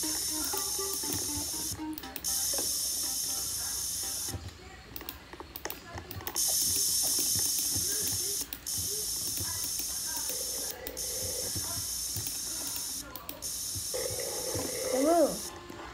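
A spray paint can hissing in long, steady bursts separated by short pauses, close by, with people talking and kids' voices around it.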